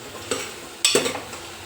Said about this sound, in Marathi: व्यवस्थित हे परतवून घेऊया